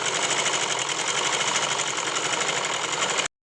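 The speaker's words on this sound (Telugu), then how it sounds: "బ్యాక్ పార్ట్ అయితే తీసుకొని నేను స్టిచ్ చేస్తున్నాను." A sewing machine stitches the back panel of a prince-cut boat-neck blouse in a fast, even mechanical chatter. It runs close and alone, then stops abruptly.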